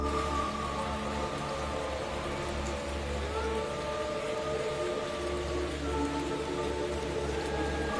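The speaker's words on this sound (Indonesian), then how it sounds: "Malam itu, hujan turun deras." Steady, heavy rain pours at night without pause, a dense even hiss over a low drone, with faint tonal sounds drifting in the background.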